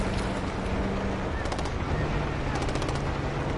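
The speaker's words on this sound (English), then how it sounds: "We've got gunfire to the right." Rapid machine-gun bursts crackle from a distance in a desert dune battle in Call of Duty Black Ops 6, set in dense, steady roaring noise that sounds like wind or engines.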